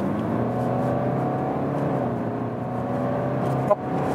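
Steady in-cabin drone of a 2-liter four-cylinder 190 hp BMW 320d G20 diesel accelerating hard in sports mode from about 70 to 100 km/h, harmonics slowly climbing, with a brief knock near the end.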